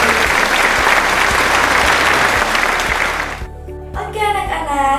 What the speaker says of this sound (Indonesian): Beri tepuk tangan untuk kalian semua karena sudah berhasil menyampaikan hasil diskusinya ke depan kelas.